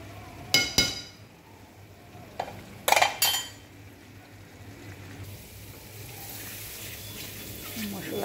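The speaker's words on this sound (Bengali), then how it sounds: "মশলাটা কষানো হয়ে গেছে" A spoon clinks and scrapes against a pan as spice paste (masala) for a fish curry with mint is stirred, with two clusters of sharp metallic knocks over a soft steady sizzle of frying oil and faint background noise.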